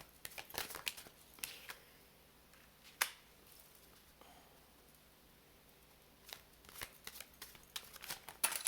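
Playing cards shuffled for a guardian angel card reading, riffling in several quick bursts separated by quiet pauses, close and fairly soft with no voice over them.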